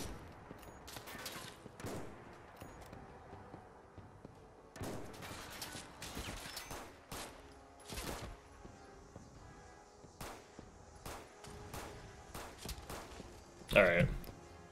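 Gunfire in a Fallout 4 shootout during modded survival play, with scattered bursts and single shots spread across the scene, some close and sharp, others softer, ending with a louder close burst.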